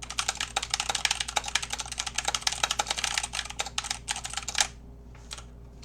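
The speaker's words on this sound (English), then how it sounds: "here's me actually typing on this thing" Rapid keystrokes on a light-up computer keyboard resting on a towel, a dense run of close, crisp clicks for several seconds before stopping abruptly, with a few stray taps after.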